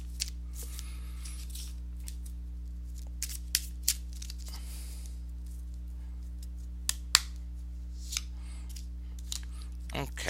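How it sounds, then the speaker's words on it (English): Crystal oracle card deck being shuffled, with scattered crisp card clicks and snaps over a steady low hum, ending in a brief louder rustle. "let me shuffle a crystal oracle to see what energies you could use to guide you through the mud."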